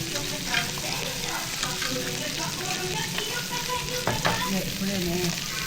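Jeju black pork cooking on a Korean barbecue grill at a restaurant, a constant close sizzle and crackle with occasional taps and scrapes of tongs, faint voices murmuring in the background.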